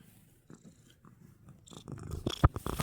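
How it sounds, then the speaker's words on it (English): A pet cat purrs close by, a soft, steady rumbling stream that grows louder and rougher toward the end, with some rustling and handling noises mixed in. "You are purring so loudly."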